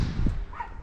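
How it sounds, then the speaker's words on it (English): A dog barks near a scrap yard, a couple of short, close barks separated by a brief pause, heard alone without talk. "Hey, Kylie, stop that barking."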